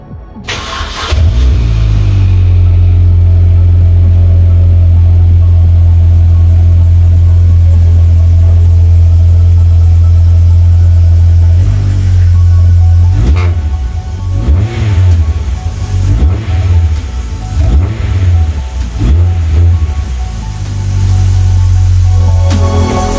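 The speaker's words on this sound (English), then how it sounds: "I can move this car back a bit" A car engine idles steadily and loudly at close range, holding a deep, constant hum throughout, with a few brief shifts in tone as the car is moved backward a short distance.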